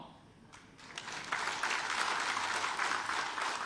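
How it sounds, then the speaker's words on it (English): Audience applause at a speech event, beginning as a few scattered claps and swelling into steady moderate clapping from a crowd. "I sensed that the claps were a few and few between."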